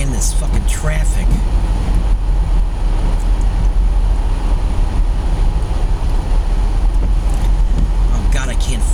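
Road traffic is heard from inside a car driving through a snowstorm in Maple Grove, a constant low engine and road rumble with wind noise, as someone talks over it.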